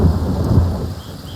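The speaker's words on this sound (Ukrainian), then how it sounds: "Я ж кастанув блискавку" Lightning spell cast in Divinity: Original Sin, a loud thunderous rumble with crackling, rain-like hiss that rolls on steadily without a sharp break.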